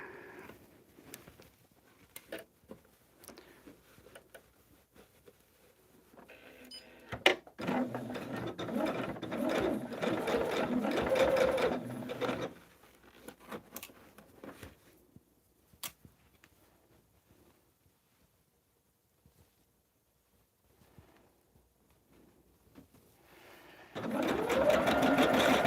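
Sewing machine stitching quilt fabric, a fast mechanical whirring run of several seconds after scattered taps and handling, then a short second burst, fairly quiet and close.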